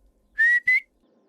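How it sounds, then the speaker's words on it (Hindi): A person whistles at someone: two short, bright, rising whistle notes in quick succession, loud and close, with silence around them. "साले मुझे देख के सीटी मारता है।"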